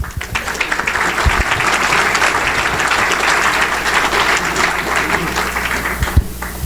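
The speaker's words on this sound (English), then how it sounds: "Let's give them a round of applause." Sustained audience applause at an honoring ceremony, a dense steady wash of many hands clapping at even loudness throughout, with no talk over it.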